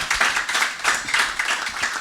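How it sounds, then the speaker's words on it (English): An audience at a talk on food production claps together in a short, even burst of applause, close and fairly loud. "Yes, a round of applause for that."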